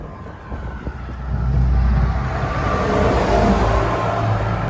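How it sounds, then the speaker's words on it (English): Road traffic roars past near a Florida hiking trail, a broad steady rumble of vehicles that swells louder after the first second and stays heavy and continuous. "So loud with all this traffic."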